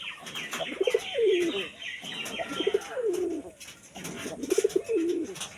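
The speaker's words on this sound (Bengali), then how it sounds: "এই ছেলে কবুতরটা ও ও জানে যে এখন ভিডিও করবে ও এখন ডাকাডাকি শুরু করে দিচ্ছে ডাকটা শুনে নাও বন্ধুরা" A male domestic pigeon coos in repeated rolling bursts at close range, three clear phrases with brief pauses between, alongside faint chirps and a little wing movement nearby.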